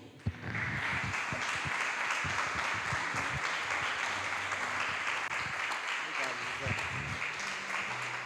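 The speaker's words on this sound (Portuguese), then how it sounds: "Aplauda ao Senhor" A congregation applauds the Lord during an online Portuguese-language church service, a steady broadband wash of clapping that holds for several seconds with a sharp clap at the start and a faint voice underneath.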